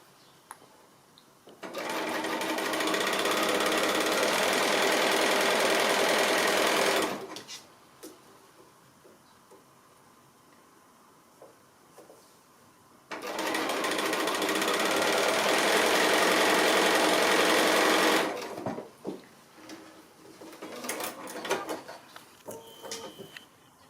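A sewing machine runs a regular straight stitch through a quilt block in two long steady bursts of fast, even, close whirring, separated by a quiet pause, with light handling noises after the second run.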